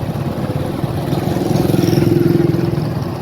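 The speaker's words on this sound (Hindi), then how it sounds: "बाइक बड़ी प्यारी चला रहा है" A motorcycle being ridden gives a steady mid-pitched engine hum with a fast pulsing throb, fairly close and moderately loud, building slightly toward the end with no clear talking.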